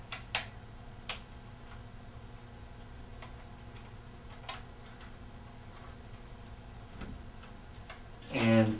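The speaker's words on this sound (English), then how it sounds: "Next, we can loosen the stem clamp bolts." A hand tool works the stem clamp bolts on a threadless bicycle stem, producing faint scattered ticking clicks over a quiet room background, with a louder rustle at the end.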